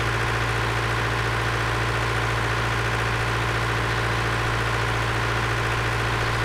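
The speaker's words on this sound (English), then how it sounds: "Seems like a really heavy tractor." A heavy tractor in the Farming Simulator 2013 game idles with a steady, unchanging diesel drone that stays loud and close throughout, with no voices.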